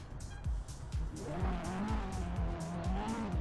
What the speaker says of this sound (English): I hear every time the engine of Leonid Kabirov screaming